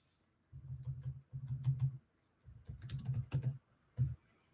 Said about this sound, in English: Yeah, I'm just typing something.